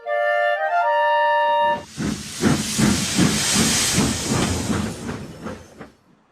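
A cartoon steam tank engine sounds a multi-tone whistle, then lets out a loud, sustained hiss of steam with a rhythmic chuffing pulse that fades away.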